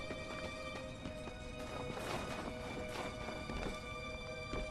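Horse hooves clip-clop at a gallop with a whinny rising over them, in a synthetic game-like mix with steady background tones, from Darksiders: Warmastered Edition.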